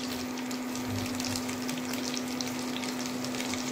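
Onion frying in oil left from frying chicken, for chicken Manchurian: a dense, even crackling sizzle close up and continuous, with a low steady hum underneath and no talk.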